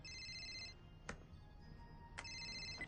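A telephone ringtone in a Christmas holiday film plays two bursts of repeated electronic trills, the second after a short gap, with a few sharp clicks in between, moderately loud over quiet room tone.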